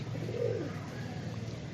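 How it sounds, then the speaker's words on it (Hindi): A shy, aging pet pigeon gives a single soft, low coo near the start, over a steady background hum with no talking. "ये बहुत शर्मीला कबूतर है मेरा भाई"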